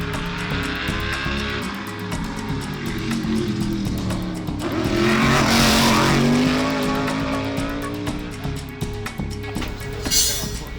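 Race cars lap the small Bowman Gray Stadium bull ring during qualifying, a loud continuous engine roar that swells as a car passes close by, with tire noise and revving under the steady din.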